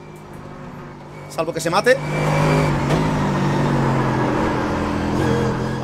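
A Ford GT race car in an iRacing GT3 race at Silverstone roars up from behind, its engine building to a steady loud drone after a burst of revving, with a voice talking over it.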